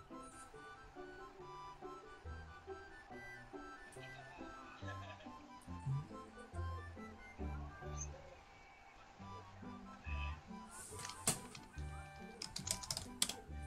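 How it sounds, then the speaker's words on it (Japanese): Fast, steady typing on a computer keyboard during an online drawing and guessing game, dense clicks running continuously under background music, with a few louder key bursts near the end. "タイピングした方が早いよ"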